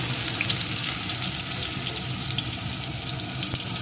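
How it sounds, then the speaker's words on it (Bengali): Small potatoes for aloo dum fry in hot oil, sizzling steadily and close up with a dense crackle and occasional pops, with no talk. "এখন এগুলোকে একটু লাল লাল করে ভেজে দেব"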